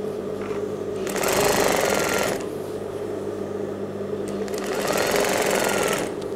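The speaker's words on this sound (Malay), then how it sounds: "Matikan jahitan dan jahitkan." Sewing machine stitching a fly zip onto slacks, running in two loud bursts separated by a quieter pause, close and steady, with no talk over it.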